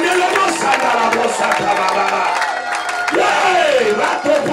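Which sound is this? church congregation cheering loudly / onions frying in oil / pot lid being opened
church congregation cheering loudly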